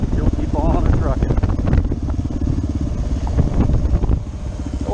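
A Kawasaki KLR 650 big-bore single-cylinder motorcycle pulls steadily in third gear on a forest ride, its engine a continuous close, throbbing drone under wind buffeting while a rider talks over it.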